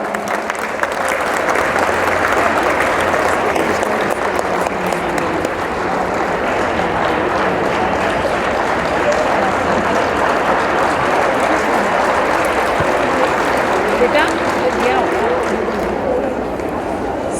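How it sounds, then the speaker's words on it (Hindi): Audience applause fills the hall at the opening ceremony of the Second Asian Yogasana Championship, a steady, dense clapping that carries on without a break for the whole stretch. "आप सभी की तालियों के बीच में"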